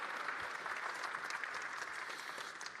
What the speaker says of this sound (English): Big round of applause for Angus Siberry.